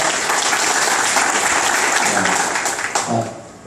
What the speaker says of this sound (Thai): ขอเสียงปรบมือให้พวกเขาเหล่านี้นะครับ